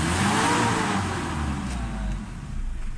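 A Mitsubishi Adventure with a 4D56 diesel engine is revved hard toward the red line, a loud close-up roar that swells and dips slightly before climbing again, with no talking.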